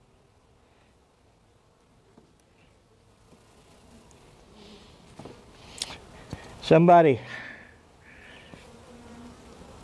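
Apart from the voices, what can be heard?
honey bees buzzing at hive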